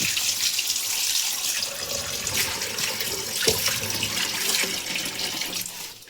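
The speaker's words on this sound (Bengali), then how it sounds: "এইভাবে করে জল পাল্টে পাল্টে বেশ কয়েকবার ধুয়ে নিব, যাতে কোনো বালি না থাকে" Pumpkin leaves being rinsed under a running tap into a sink, a steady close hiss of flowing water with small splashes and drips throughout, no voices.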